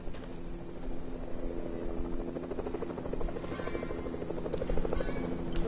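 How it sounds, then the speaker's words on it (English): A helicopter in the game Fortnite produces a steady, moderately quiet rotor drone with a rhythmic chopping pulse that continues without break, and no one speaks over it. "Helicopter."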